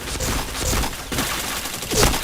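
Rapid bursts of video game gunfire in a first-person shooter, dense overlapping shots crackling close and loud for about two seconds, with no talking.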